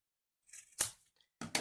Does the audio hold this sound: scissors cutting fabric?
yes